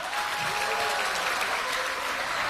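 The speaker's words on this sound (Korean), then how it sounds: "큰 박수 부탁드립니다" A large audience at a Democratic Party candidates' rally for Korea's 2024 general election applauds in a steady, dense, unbroken wash of clapping that holds at an even level throughout.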